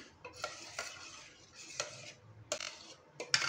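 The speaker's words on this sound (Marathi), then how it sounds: "व्यवस्थित आपल्याला ढवळून घ्यायचं आहे, म्हणजे गूळ छान असं मिक्स होईल." A spoon stirs jaggery into warm milk in a pot for rice kheer, giving a few close, uneven scraping swishes with short pauses between strokes, and no one speaks.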